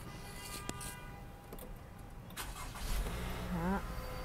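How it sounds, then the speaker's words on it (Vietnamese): A used Toyota car's engine cranks and catches close by, rising briefly in level near the end over a steady background hum. "Đây dùng đề máy quý vị nghe nè"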